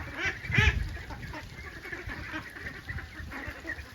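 Ducks quack and honk nearby, a few loud calls at first, then softer scattered quacks over a steady outdoor background.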